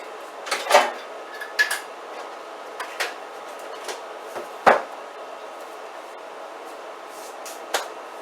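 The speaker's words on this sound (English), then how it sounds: "let me grab a spoon here" Dishes and cutlery clink and rattle in a kitchen as a spoon is grabbed, with a handful of sharp separate knocks and clatters spread out over quiet gaps, close and fairly crisp.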